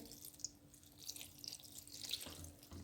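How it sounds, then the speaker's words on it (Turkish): Tomato-paste water being poured over stuffed grape leaves in a pot, a faint continuous trickle with a few small splashes, close and quiet. "salçalı suyumuzu da gezdire gezdire döküyorum"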